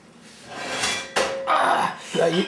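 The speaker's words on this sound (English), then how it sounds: "We take the frying pan." A metal pan clanks and scrapes against a hard surface, with a sharp knock midway, close and fairly loud, a voice briefly audible near the end.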